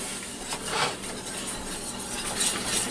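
A whisk scrapes and stirs steadily through rarebit sauce with Newcastle brown ale in a pan over low heat, a continuous close rasping and swishing with light metallic ticks.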